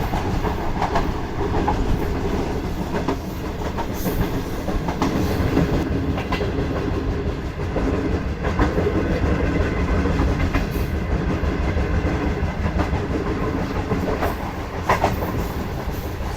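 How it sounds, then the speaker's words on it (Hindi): A train rolls along a sand-buried track through the Thar Desert, its steady loud rumble and rhythmic clickety-clack of wheels over rail joints continuous and close throughout. "पूरी रेत के ऊपर चलती हुई आई ये ट्रेन।"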